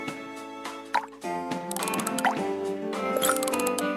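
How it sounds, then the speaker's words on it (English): Candy coating drops falling into a saucepan in the Strawberry Shortcake Sweet Shop mobile game, bright cartoonish drip and plop effects layered over cheerful tonal background music, with a few sharp liquid blips. "Choose one and add a few drops."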